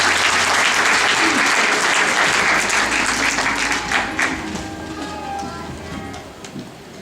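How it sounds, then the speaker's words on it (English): An audience at a graduation ceremony breaks into loud, dense applause that holds steady for several seconds before tapering off to scattered claps. "give a big round of applause to Honorable Efran Xavier"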